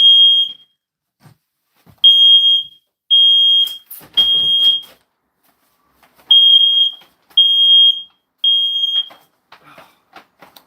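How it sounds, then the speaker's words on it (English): A smoke alarm sounds indoors during a fire alarm test, giving loud, piercing high beeps in short bursts separated by pauses, with a brief rustle and some faint clatter between bursts. "Fire alarm test."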